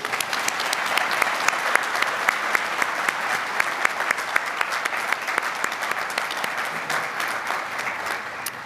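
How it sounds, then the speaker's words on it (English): A commencement audience applauds the graduates at a Blue Ridge Community College fall ceremony: sustained, even applause from a large crowd filling the hall, steady from start to finish with no speech. "and we applaud you."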